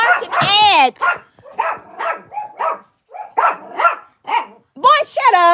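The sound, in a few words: dogs barking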